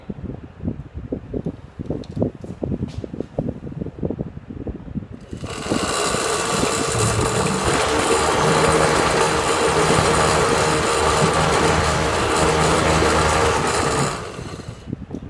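A Van de Graaff generator's motor running at about 85 volts and 900 RPM starts after a few seconds of handling noise and hums loudly and steadily for roughly nine seconds, then winds down near the end.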